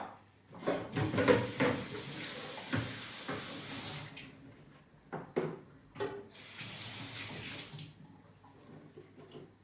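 Tap water runs close by in a home kitchen as something is rinsed, in two splashing, gushing bursts separated by a short pause, with clinks and no talking.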